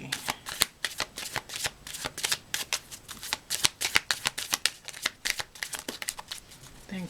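Tarot cards being shuffled by hand, a steady run of crisp riffling flutters and soft slaps repeating close up for several seconds, with no talking over them.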